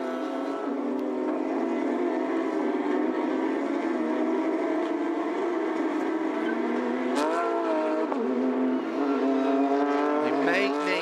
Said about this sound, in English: We may need the intervention of the safety car, and as I said, here it comes.